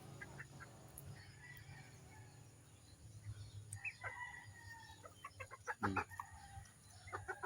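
Young pullets cluck and call while pecking at feed, a busy flock of soft clucks with a few louder squawks and calls near the end over steady low barnyard hum.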